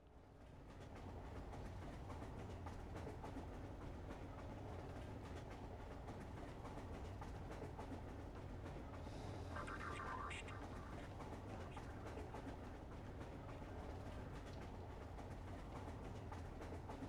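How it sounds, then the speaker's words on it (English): A razor train rolls through in the video game Entropy Zero with a steady low rumble and faint rhythmic rail clatter, heard at a moderate distance, with a brief higher mechanical whine partway through. "It's a car and a razor train."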